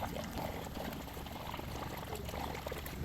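Distilled water is poured through a funnel into a Jeep XJ, a faint steady trickle and gurgle that continues unbroken for a few seconds.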